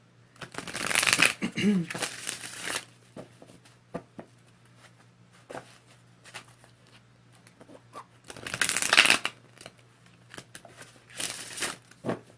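Tarot cards are shuffled in a few quick riffling bursts, close and crisp, separated by pauses with small taps and handling noises.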